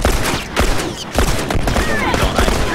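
Gunfire in The Last of Us multiplayer, a dense burst of loud, close shots packed together over a noisy game mix, with someone talking over part of it.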